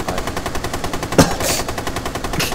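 Rapid automatic gunfire in the video game Rainbow Six Siege, a steady loud stream of rounds with one heavier impact midway and no talking.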